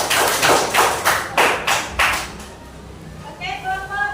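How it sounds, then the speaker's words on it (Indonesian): Students in a classroom clap for a group, with a burst of roughly six loud rhythmic claps up close followed by a quieter pause and a faint tonal voice-like sound at the end. "Oke, tepuk tangan dulu dan untuk kelompok 2."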